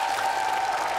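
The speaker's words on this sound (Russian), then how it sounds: "И еще раз аплодисменты." Crowd applause at a record-setting stunt event, a brief, steady, dense burst of clapping at even loudness.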